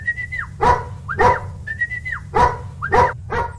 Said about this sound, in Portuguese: do cachorro latindo